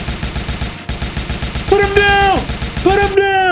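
Rapid gunfire from a magazine-fed gun in the video game Gears of Babies, a fast, loud rattle of shots repeating throughout while a voice talks over it.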